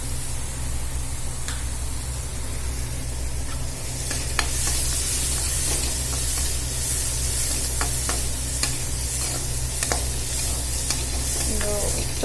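Seasoning sizzles in a pan of pasta as it cooks, a steady close hiss of frying with scattered light scrapes and clicks of stirring.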